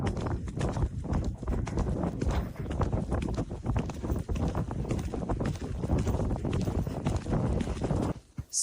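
Hooves of a mare being ridden clip-clop in a steady, continuous rhythm, close and loud, under heavy wind noise.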